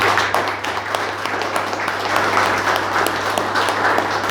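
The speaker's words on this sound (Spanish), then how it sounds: "Denle un aplauso al Señor." A church congregation applauds steadily, with dense, continuous clapping that holds at a lively level throughout and no talking.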